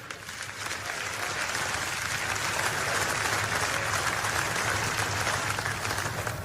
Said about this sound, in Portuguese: Vamos lá, glorifica o Senhor com palmas aí.